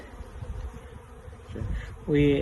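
Dense, steady buzzing of many honey bees close by during a package bee installation, a continuous drone that swells louder toward the end.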